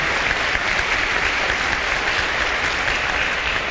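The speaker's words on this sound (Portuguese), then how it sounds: "Dá uma salva de palmas a eles." A church congregation claps steadily throughout, a dense, even wash of applause with no voices on top.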